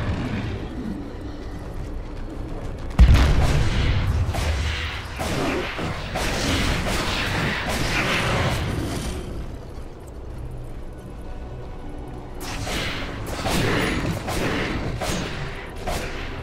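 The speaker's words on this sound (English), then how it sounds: "Dire's top tower is under attack." Tower under attack in Dota 2: a sudden heavy boom, then sustained rumbling blasts and crackling impacts of battle that swell again near the end, with no talking.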